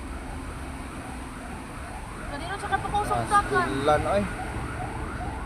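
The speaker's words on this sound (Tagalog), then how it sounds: "Napay ambulansya oh." An ambulance siren wails and rises while passing along a flooded street in Tipolo, Mandaue City, moderately distant, under people talking nearby.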